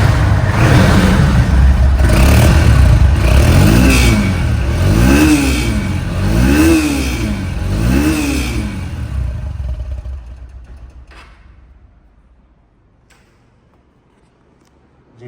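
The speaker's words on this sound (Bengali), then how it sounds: "বাইকটি এখন সাউন্ড কোয়ালিটি শুনুন" A second-hand 2022 motorcycle in showroom condition revs repeatedly and loudly close by in rhythmic rising and falling swells, then settles and fades toward quiet near the end.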